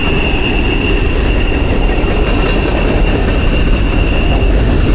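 Freight train rolling past at a coal-camp ghost town in Glen Alum, West Virginia, a loud, continuous rumble of rail cars and wheels with a faint high squeal, close by and unbroken.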